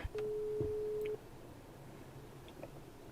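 Telephone tone heard while phoning a dad, a single steady beep lasting about a second, clear over a quiet room background with faint shuffling.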